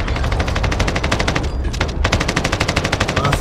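Rapid automatic gunfire rattles through a battle royale video game, loud and close, with dense repeated bursts that pause briefly mid-way before resuming at a steady fast rhythm.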